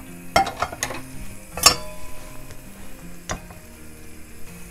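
Clinks and scrapes of a utensil stirring pasta and bacon in a pan, a few sharp knocks over a soft background sizzle.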